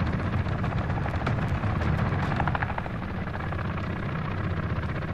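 A chopper gunner helicopter from the video game Call of Duty Modern Warfare, heard as a loud, steady rotor roar with faint bursts that may be gunfire mixed in, filling the whole stretch without any talk.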